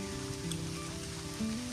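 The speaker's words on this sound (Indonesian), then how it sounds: "tiba-tiba turun hujan teman-teman di tengah teriknya panas" Rain patters steadily on surfaces beside a lake during a fishing trip, a soft continuous hiss of falling drops close by with no voices.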